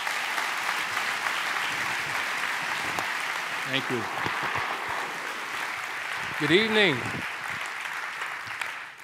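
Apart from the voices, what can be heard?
audience applause for a speaker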